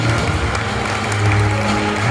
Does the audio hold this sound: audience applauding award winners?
yes